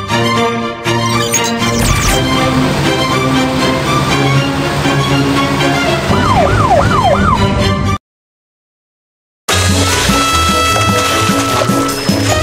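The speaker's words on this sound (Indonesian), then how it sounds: "Petugas pemadam kebakaran Kiki sedang dalam perjalanan" A loud wailing fire engine siren in a children's game rises and falls in steady sweeps over busy game-like music, cuts out briefly, then the music resumes.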